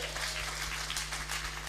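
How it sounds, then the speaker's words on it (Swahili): A church congregation at an Easter Sunday service applauds, a brief continuous patter of many hands clapping in a reverberant hall, with a low steady hum underneath. "Mpigie makofi."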